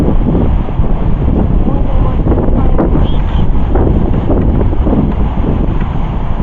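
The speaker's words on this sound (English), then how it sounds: "There's some big waves coming, almost like being down there at the beach." Steady wind roars across the microphone while waves wash in on a lake at Tawakoni State Park, a continuous loud rushing surf with no distinct breaks.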